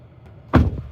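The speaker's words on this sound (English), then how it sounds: "open the door." A Tesla Cybertruck door opens with a single solid thunk, close and fairly loud, after a short stretch of quiet cabin hum.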